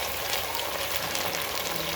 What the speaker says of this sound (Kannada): ಸ್ವಲ್ಪ ಫ್ರೈ ಆಗ್ತಾಯಿದೆ ನೋಡಿ